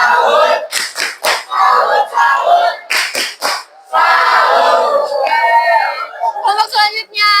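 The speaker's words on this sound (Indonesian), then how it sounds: "Tepuk salut sekarang mah." A group of students in a class performs a rhythmic Indonesian clap-and-chant salute, with loud sharp hand claps in bursts between chanted shouted phrases, ending in high voiced calls.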